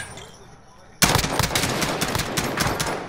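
Rifle gunfire in Call of Duty Warzone, a sudden burst of rapid automatic shots after a second of quiet, loud and close, with sharp repeated cracks continuing to the end.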